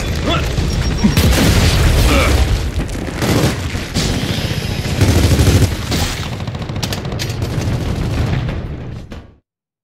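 A frag grenade blast and sustained gunfire in the video game Gears of War 4: a loud, dense barrage of booms and rattling shots filling the whole stretch before cutting off abruptly.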